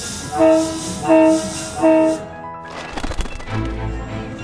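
A train arrives, sounding three loud, evenly spaced horn blasts up close, followed by the deep clattering rumble of its rolling cars.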